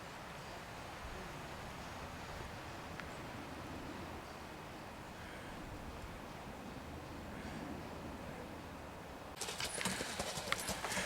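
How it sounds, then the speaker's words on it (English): Horse and cart rolling past on a New Forest road, a steady broadband rumble of hooves and wheels that holds close and fairly loud throughout, with a sharper crunching burst near the end. "here we are, with that horse and cart"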